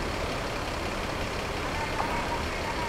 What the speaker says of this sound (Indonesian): Diparkir mundur kendaraannya.